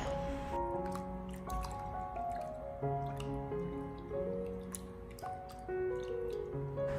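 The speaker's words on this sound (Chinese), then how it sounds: "然后再往里面添加满清水，将虾仁清洗一下， 用手将它轻轻的捉拌" Peeled shrimp are rinsed by hand in a bowl filled with clean water, with soft squishing and dripping sounds close by under a steady tonal backdrop.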